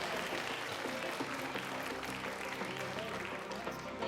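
Audience applause fills the BBC Radio Theatre at London Broadcasting House during a staff event, a dense, steady clapping from a large crowd sustained at even loudness throughout.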